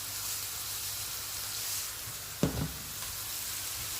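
Sliced onion frying in a pan for a Kerala thoran, with a faint, even sizzle and a brief clatter near the middle as the onion lands in the pan.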